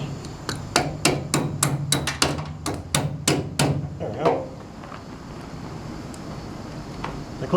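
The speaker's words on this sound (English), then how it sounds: "we can just jam a piece in there, jam a wedge in" A wedge is hammered in beside a bolt during 4WD Daytona gas tank work: about a dozen quick, sharp metallic strikes in a rapid run, then the blows stop and a low room hum remains.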